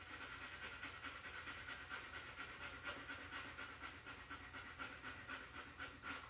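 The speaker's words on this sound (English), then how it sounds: "and breathe very fast again." Quiet rapid panting breaths from a yoga breathing exercise, fast rhythmic huffs repeating evenly throughout, faint and with no talking.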